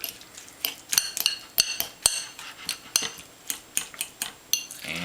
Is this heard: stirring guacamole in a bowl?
yes